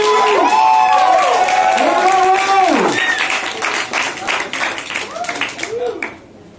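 An audience greets a band with loud, dense clapping and cheering, while a voice speaks over the first half. The applause then thins into scattered claps and fades out near the end.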